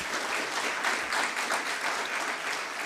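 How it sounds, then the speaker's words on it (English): Brief applause from an audience for a speaker at a design thinking festival in Gurgaon, a dense, continuous crowd clapping at moderate volume. "Can we have a huge applause for sir?"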